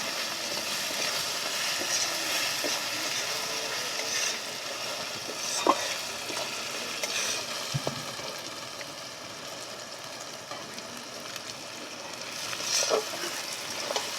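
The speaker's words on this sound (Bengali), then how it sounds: "রসুনটা আমার সুন্দর হয়ে ভাজা হয়ে গেছে ভালোভাবে।" Garlic frying in a pan on a wood-fired village stove, a steady soft sizzle with occasional sharp stirring taps, moderately close, no speech.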